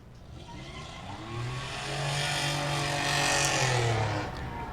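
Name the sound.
race car on checkered flag lap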